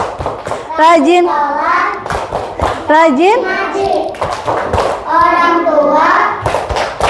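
Children in a classroom performing the tepuk anak soleh chant, sung lines punctuated by sharp rhythmic hand claps in a steady pattern, close and loud, with a teacher's voice among them.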